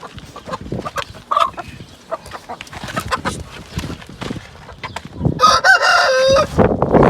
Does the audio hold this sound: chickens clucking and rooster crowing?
yes